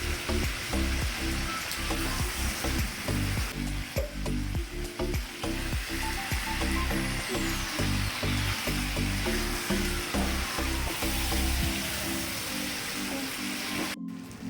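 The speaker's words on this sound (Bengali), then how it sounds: "আমার কষানো একদম হয়ে গেছে এবার আমি এর মধ্যে জল দিয়ে দিলাম" Sautéed spices sizzle loudly and steadily in a pan after water is added, with a dense frying hiss and scattered stirring knocks for the whole stretch.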